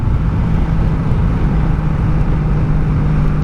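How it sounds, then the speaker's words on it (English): A 1984 Honda Sabre V65 VF1100S sport-tourer engine hums as a steady, loud, low rumble on a night ride, continuous and unbroken with wind noise and no talking. "This thing is relatively quiet, but you just can hear the rumble behind you."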